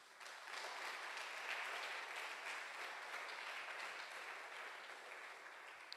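A church congregation applauds in a steady, dense wash of clapping that holds at an even level throughout, fairly distant and without any voices on top.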